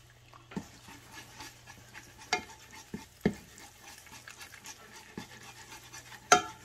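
Food is stirred in a frying pan. A utensil scrapes and knocks against the pan in scattered sharp strokes over a faint, steady sizzle, with no talking.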